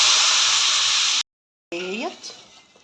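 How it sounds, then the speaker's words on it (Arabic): Boiling water is poured onto washed basmati rice with spices in a kitchen, giving a loud steady hiss that cuts off sharply, then a short gurgling splash that fades out. "معنا ميه مغليه بقى كده، هنحطها كده"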